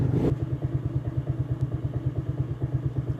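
A Coleman AT125UT youth ATV engine idles close by with a fast, even, thumping putter that holds a steady rhythm throughout.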